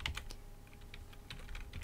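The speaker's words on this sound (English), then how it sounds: "I'm typing, sorry if you can hear that." Someone types on a computer keyboard, making a quick, irregular patter of soft key clicks at close range with no voice over it.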